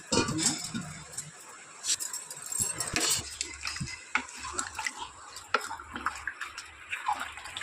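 Water is poured into a cooking pan, a faint splashing and bubbling with a few clinks of utensils against the pan, fairly quiet and intermittent.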